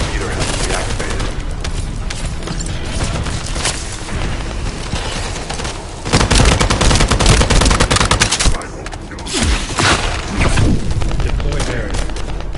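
Sustained automatic gunfire and blasts in the sci-fi shooter game The First Descendant, loud and dense throughout with bursts intensifying midway, mixed with game effects and occasional voices.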